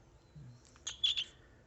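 A pet cockatiel perched on a person's hand gives a few short, soft chirps in a quick cluster, faint and close in an otherwise quiet room.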